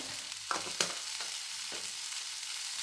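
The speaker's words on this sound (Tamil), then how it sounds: "நல்லா இதுலேயே வதக்கணும்." Vegetables are stir-fried with pepper and salt in a pan for a masala bread toss, giving a steady close sizzle with a few quick stirring scrapes and taps, no speech.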